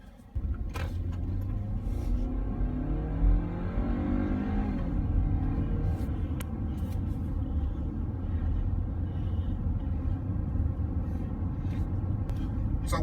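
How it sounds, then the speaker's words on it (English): A Kia Sportage drives along, its engine rumbling steadily from inside the cabin as it pulls away and accelerates with a rising rev sweep, then settles into a continuous low road drone. "let's see how this car drives"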